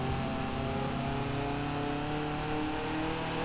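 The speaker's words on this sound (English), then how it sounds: "it certainly sounds louder. And it's revving higher as well by about 500 revs." A modified car engine in Forza Horizon 4 holds a steady, loud drone throughout, with layered harmonic tones and no talk over it.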